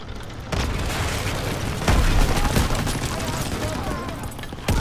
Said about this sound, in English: Just straight nades everywhere.